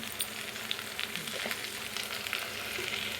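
Rice fries in a pressure cooker pot with chicken pieces for dum biryani, giving a constant crackling sizzle with faint stirring scrapes, close and steady, no voices.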